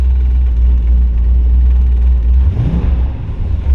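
A 1969 Ford Mustang 428 Super Cobra Jet Drag Pack V8 idles with a loud, deep rumble, then gets a short blip of revs near the end before settling back.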